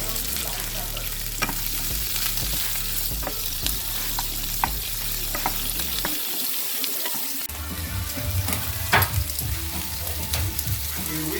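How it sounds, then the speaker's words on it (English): Pork steak meat for fajitas sautés in a pan, giving a close, steady sizzling hiss with scattered clicks and scrapes of stirring throughout, and no voices. "we're gonna saute the meat first"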